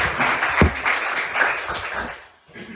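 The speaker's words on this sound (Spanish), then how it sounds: "Vamos a dar un aplauso a nuestros ayudantes," A church congregation applauding the helpers, loud clapping with a sharp tap standing out early, tapering off before a brief quiet ending.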